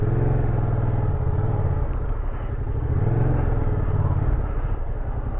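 A motorcycle ridden through a gendarmerie riding test, its engine a continuous close rumble that swells and eases slightly as the throttle shifts.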